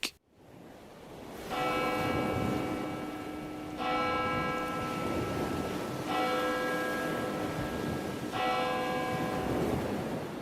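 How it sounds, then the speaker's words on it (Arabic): A church bell tolls repeatedly, four loud resonant strikes spaced about two seconds apart, each ringing on and overlapping the next over a steady background rumble. "فجأة سمعت صوت الجرس دا يندق"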